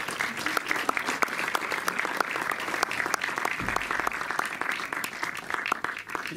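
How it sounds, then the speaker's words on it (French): An audience claps steadily in sustained applause at a film premiere in a cinema, a dense crowd of hands with no voices standing out. "peut aussi applaudir Valentin Dupac, le distributeur"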